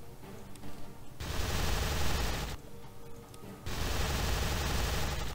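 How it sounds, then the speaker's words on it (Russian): A minigun from the Essential Minigun Mod in Starbound fires in two long, loud continuous bursts, each a dense roaring rattle, separated by a short pause. "И сейчас я вам продемонстрирую данный пулемет на нашем старом добром ужасном крыле."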